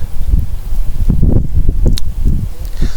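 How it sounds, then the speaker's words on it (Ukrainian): Strong wind gusts over a swamp during fishing, heard as a loud, uneven low rumble buffeting the microphone with faint rustling between gusts. "зараз вітер дуже великий"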